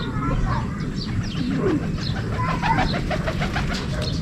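Racing pigeons at a club training race coo faintly amid a busy outdoor background, while people talk nearby over a constant low rumble.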